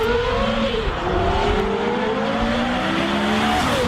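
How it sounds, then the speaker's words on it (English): A Porsche Carrera GT, built between 2003 and 2006, revs and accelerates close by, its engine pitch sweeping up and down through gear changes, loud and continuous. "you start the car with your left hand, you put it into gear with your right, and you're off and running"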